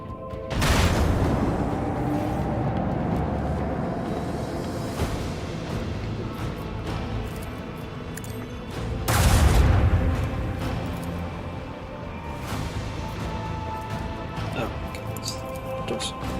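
Plasma torpedoes detonating in the space combat game Rogue Trader, two heavy booming blasts with long rumbling tails, loud and near, separated by a sustained low roar.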